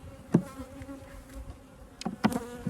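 Honeybees buzzing around an open hive during a walk-away split, a faint continuous drone close by with a few louder passes as bees fly near.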